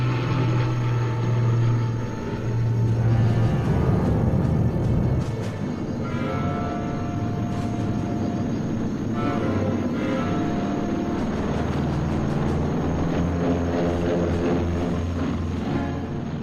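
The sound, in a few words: C-47 aircraft towing gliders taking off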